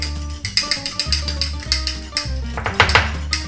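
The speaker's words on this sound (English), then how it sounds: "And now just grab a fork, a bit of whisk." Eggs whisked with a fork in a bowl, a quick run of rhythmic clinking taps against the dish, close and fairly loud, with no speech.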